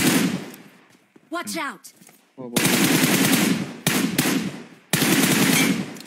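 Rapid bursts of automatic gunfire in a ranked push match of an online shooter game, loud and dense, coming in several sustained volleys with brief gaps, while a player shouts a short warning partway through.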